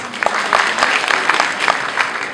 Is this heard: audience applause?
yes